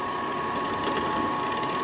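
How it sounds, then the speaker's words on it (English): A steel pin is bored through at one end for a padlock, the drill giving a steady close mechanical whirring and grinding hum with a faint rhythmic rattle, no speech. "Boring a hole in the end of it for a padlock."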